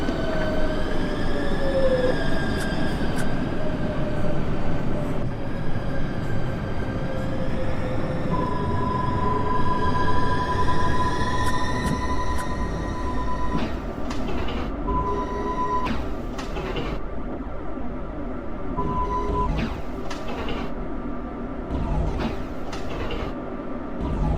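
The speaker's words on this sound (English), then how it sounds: "This is a Brooklyn Bridge bound 6 train." An NYC Subway R142A 6 train bound for Brooklyn Bridge in the OpenBVE simulator runs steadily, with a rising motor whine, rumbling wheels on track and clicking rail joints, loud and continuous with no talking.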